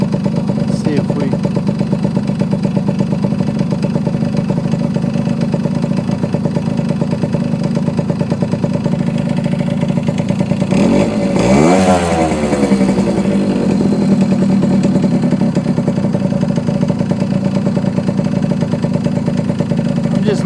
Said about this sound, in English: Start it back up now that we got the air cleaner on, and then test it.